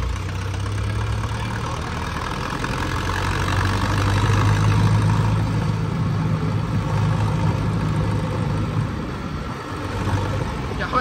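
An HMT 5911 tractor engine runs with a steady, low, chugging drone that continues unbroken at close range, while people talk over it.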